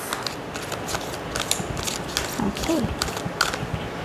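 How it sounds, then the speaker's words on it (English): A pocket edition deck of oracle cards with glossy cardstock being shuffled by hand, in quick repeated riffles and rattling clicks. A voice speaks a single brief word. "I do prefer shuffling the pocket edition"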